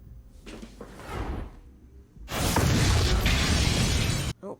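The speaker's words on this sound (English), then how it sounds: "Oh, there's the explosion." Breaking Bad episode explosion: a muffled rumble with scattered debris, then a sudden loud roaring blast with shattering glass that cuts off abruptly, followed by a brief tail.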